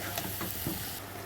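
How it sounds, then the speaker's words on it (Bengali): Green peas are stirred in a frying pan, giving a quiet sizzle with a few soft scrapes and knocks of the spoon against the pan over a short moment. "দেখো এবার কড়াইশুঁটি দিয়ে নাড়াচাড়া দেওয়া হবে।"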